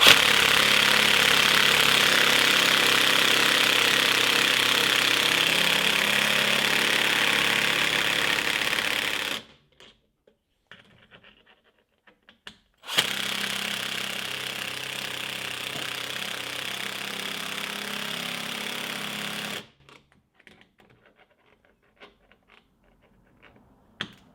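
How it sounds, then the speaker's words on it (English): An 18-volt Milwaukee drill drives studs into a snowmobile track in two long, loud, steady runs, each slowing near the end and separated by a pause, followed by near silence. "I usually just let this 18-volt Milwaukee almost come to a stop"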